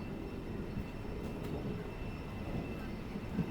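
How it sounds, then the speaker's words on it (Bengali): Steady low rumble and rattle of a Barddhaman–Rampurhat MEMU local train pulling out of Panagarh station in the rain, heard from inside the carriage, continuous and moderately quiet. "আর পানাগড় থেকে আমাদের ট্রেন ছেড়ে দিল।"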